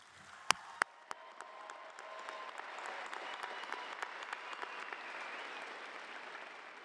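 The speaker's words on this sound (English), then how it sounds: "how about one more round of applause for all our pending graduates?" Sustained applause from a crowd at a 2024 high school graduation ceremony, steady broadband clapping with a few sharp, loud claps near the start, then continuing evenly.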